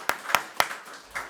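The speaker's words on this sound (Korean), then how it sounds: "박수 한번 하겠습니다." A church congregation claps in a short burst: three crisp, evenly spaced claps followed by a softer, fainter one, close and fairly loud.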